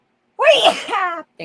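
A single close, sharp human sneeze bursts out indoors, followed by a brief quiet word of speech.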